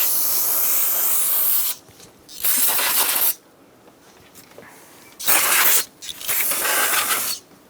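Cleaner sprayed onto the area around a newly fitted AC condenser on a 2007-2017 Ford Expedition, loud hissing bursts of spray repeated several times with short quiet gaps between them.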